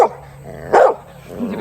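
A dog by a boat on the water in Colombia lets out a loud, close bark with a whimpering, yipping edge, followed by a fainter whine.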